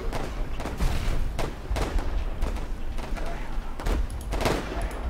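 Grenades and gunfire go off in the First World War game Warfare: 1917: repeated booming blasts and crackling shots come in irregular bursts over a rumbling battlefield background.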